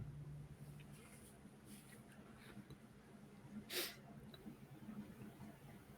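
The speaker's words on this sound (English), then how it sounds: "That was a really good sneeze" A single sharp sneeze bursts out near the middle, briefly loud against quiet background talk in a tabletop roleplaying session.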